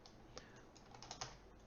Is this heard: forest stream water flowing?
no